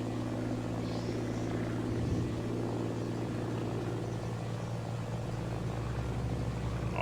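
Beechcraft D18 Volpar propeller airplane in flight near Guam, a steady loud droning engine and propeller hum heard from inside the cabin, continuous and unbroken, with no talk.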